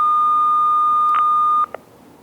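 A Uniden BCD436HP scanner sounds pager tone-out tones: a long, steady, loud beep holds for over a second and a half, then a brief second tone follows before the signal drops to quiet hiss.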